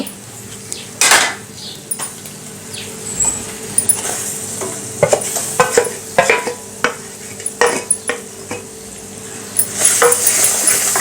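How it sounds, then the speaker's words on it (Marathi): Onion and tomato masala paste being stir-fried for a Maharashtrian shengole curry, a continuous sizzle under frequent clattering spoon scrapes and knocks against the pot, close and fairly loud. "आता हा सगळा मसाला मी परत दोन मिनटे छान परतून घेणार आहे"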